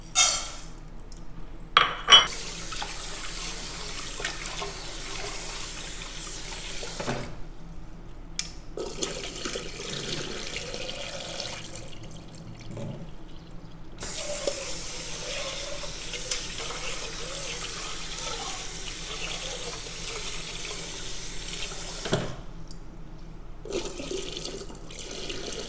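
Tap water runs steadily into a pot being filled for jasmine rice, a continuous hiss of flow broken by a few clinks of cookware and short pauses.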